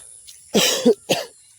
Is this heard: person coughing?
yes